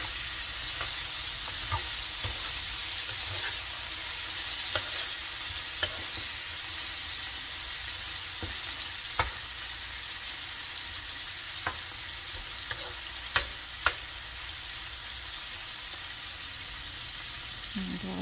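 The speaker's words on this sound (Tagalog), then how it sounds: "ito haluin ulit guys hanggang sa lumambot po ang pork natin" Pork fries in a pan with a constant loud sizzle while it is stirred, with occasional sharp clicks of the utensil against the pan.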